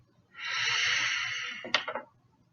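One deep breath drawn in through the nose, a close airy inhale lasting over a second, ending in a brief rasp.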